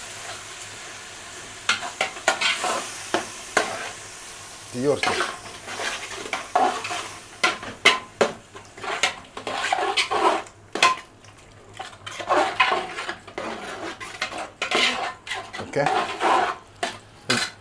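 Garam masala and yogurt being stirred into a pot of Kozhikode-style chicken biryani, with repeated scraping clatters of a spoon against the metal pot and a faint sizzle underneath, near and fairly loud, occasional voices in the background.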